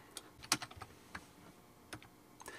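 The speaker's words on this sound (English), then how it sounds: "I can run the Python script by typing in Python and then specifying the name of the script" Keys clack on a computer keyboard as a command is typed at a command prompt, irregular soft taps close to the microphone with short pauses between them, no voices.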